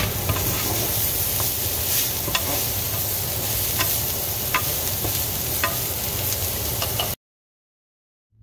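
Broccoli sizzles steadily in a hot pan while it is stirred, with a constant loud frying hiss broken by occasional scraping stirs, then a sudden cut to silence.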